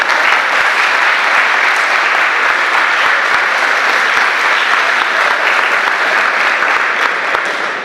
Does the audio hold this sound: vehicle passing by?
no